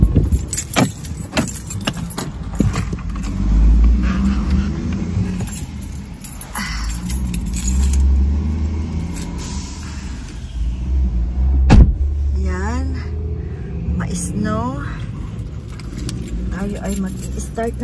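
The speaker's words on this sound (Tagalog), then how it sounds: "Start ng sasakyan." A car in a snowy spring setting is handled and started: keys jangle and rattle, then an engine cranks and turns over into a low idling rumble, with someone talking over much of it.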